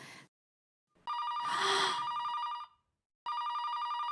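A telephone bell rings in two loud bursts separated by a pause, with a brief faint sound just before the first ring.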